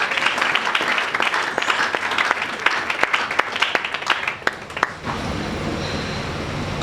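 A church congregation applauds at a Sunday service, dense sustained clapping with scattered sharp claps for about five seconds before fading into a quieter room murmur.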